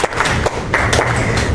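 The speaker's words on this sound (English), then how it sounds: "Let's give a round of applause for our lovely models." An audience at a flag football penalty enforcement session claps for the signal demonstrators in a short burst of close, crackling applause, a dense patter of hands lasting about a second and a half.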